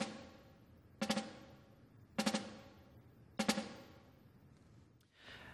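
Three four-stroke ruffs on a snare drum, each a tight burst of quick grace strokes rolling into an accented hit, spaced about a second apart and played solo in a quiet room, followed by a faint rustle.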